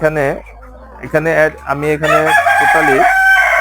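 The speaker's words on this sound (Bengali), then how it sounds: "আমার মুরগি আছে এখানে টোটালি হলো 14টা 14টা। মুরগি সহ।" Chickens on a quail and poultry farm cluck and crow in several loud, close bursts, with someone speaking over and between the calls.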